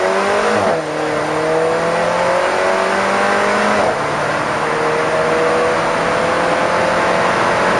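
An Alfa Romeo 4C accelerates hard, its engine loud and close with rising revs that drop sharply at each gear change and then climb again, continuous throughout with no talk.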